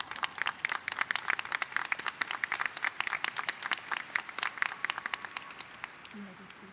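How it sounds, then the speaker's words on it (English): Scattered applause from the audience at a university commencement, a thin patter of individual claps at moderate distance that gradually tapers off, with a voice starting at the end. "Let's give them a round of applause."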